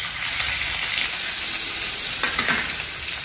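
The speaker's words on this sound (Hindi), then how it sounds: "उसके बाद में हम डालेंगे ऑयल. Ginger garlic paste," Ginger garlic paste fries in oil on a tawa, giving a loud, steady sizzle up close with light stirring scrapes.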